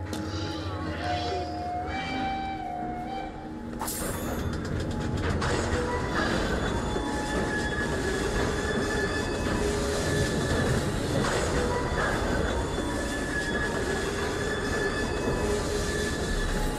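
A moving train in Assassin's Creed Syndicate gives a loud, continuous rumble of rolling wheels with metallic squeals and rattling carriages, growing fuller after a sudden burst partway through.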